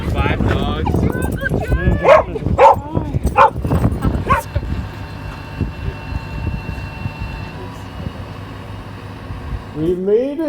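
Several dogs bark in a quick burst of loud, close yips and woofs, then fall quiet under a steady low hum, with a brief whimpering whine near the end; voices talk around them by a large camper.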